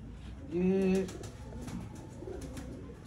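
A teddy pigeon coos once, loud and close, in a brief throaty burst, then softer cooing and faint background murmur continue.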